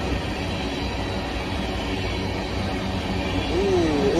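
A long freight train of black carbon hopper cars rolls past in a steady, continuous rumble, with a faint wheel squeal rising near the end.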